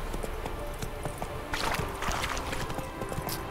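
Hooves clip-clopping in a steady gallop-like rhythm as a horse is ridden in The Witcher 3: Wild Hunt, moderately close, with brief rushing swells of ambient game sound and no talking.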